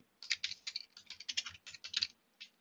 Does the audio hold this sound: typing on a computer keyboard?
yes